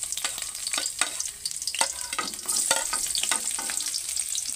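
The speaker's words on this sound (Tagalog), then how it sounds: "Mainit na yung mantika guys at igigisa ko na yung aking bawang at sibuyas." Garlic and onion sautéing in hot oil for a vegetable dish, a steady close sizzle broken by repeated scraping stirs of a utensil against the pan, with no talk.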